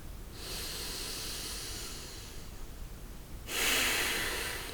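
Deep, slow breaths during yoga practice, a long hissing inhale or exhale through the nose followed by a louder, forceful breath, close and clear with no talk.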